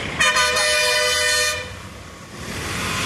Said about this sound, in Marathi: इथं लय ट्रॅफिक आहे.